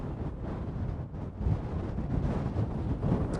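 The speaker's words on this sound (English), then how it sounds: "Shame about this wind though." Strong wind gusting across an exposed hilltop on Kinder Scout, buffeting and roaring steadily at close range with rough, blustery surges and no talking.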